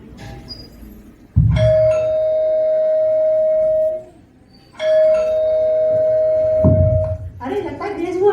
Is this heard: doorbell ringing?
yes